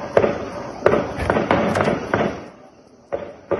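Gunshots ringing out at night in Port-au-Prince, Haiti: a rapid series of sharp cracks, about eight shots in uneven bursts, fairly close and loud, with a short pause before a final pair.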